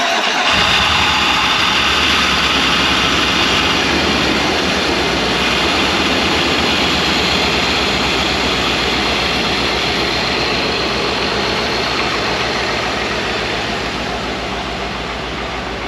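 A 5.3 LS V8 swapped into a Land Rover Discovery 2 cranks and catches, then settles into a loud, steady idle through its exhaust, running continuously and close by with no talking.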